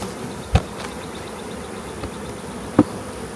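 A mass of honeybees buzz softly near an opened hive as they crawl back in during a summer split, with a couple of sharp knocks of hive equipment.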